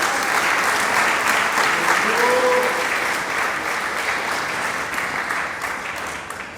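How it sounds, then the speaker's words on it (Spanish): A church congregation claps steadily in a broad, dense wash of applause that holds level and then tapers slightly, with no voices rising above it. "Denle palmas a Dios que cielo"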